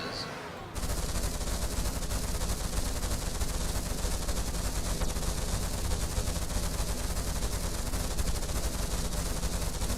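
A mini tricycle railgun in a video game firing its 36mm guns, a sudden onset of loud, unbroken rapid gunfire that continues for the rest of the clip.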